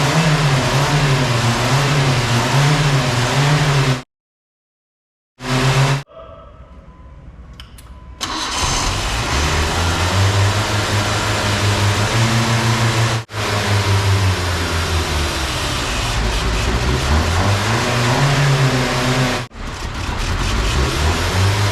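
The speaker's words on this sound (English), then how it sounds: "Starting car up," A car engine in a Yugo project car with a large vacuum leak catches after a brief start-up attempt, then runs loud and rough with rising and falling revs for about twenty seconds, cutting out briefly twice.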